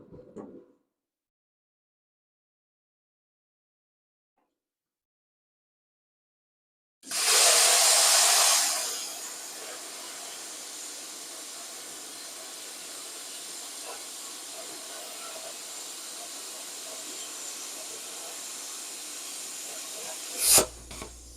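A BestArc BTC500DP plasma cutter slicing quarter-inch metal, starting with a sharp loud burst of hiss that settles into a steady, sustained roaring hiss for about thirteen seconds before cutting off abruptly.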